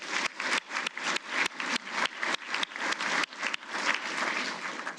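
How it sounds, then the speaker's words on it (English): Applause at an annual employee awards ceremony, a steady spread of clapping from the audience that swells and dips in several short waves, moderately loud with no talk over it. "So how about a round of applause for all those?"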